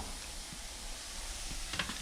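Curry-style potatoes fry in a pan, a steady soft sizzle and hiss with faint stirring scrapes, quiet and close, no talking.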